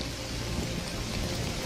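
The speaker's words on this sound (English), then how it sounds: "It's just some rain." Steady, dense rainfall from the animated film Shrek 2 gives an even, continuous hiss with no voices.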